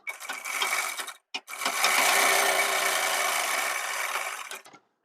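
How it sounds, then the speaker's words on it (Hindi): Sewing machine stitching underwear fabric, a fast close mechanical rattle in two bursts with a short pause between them. "यहाँ से हम एक पैर का मार्जिन लेकर इसमें सिलाई लगा लेंगे।"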